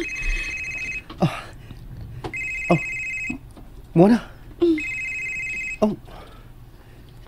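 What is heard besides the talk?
mobile phone ringing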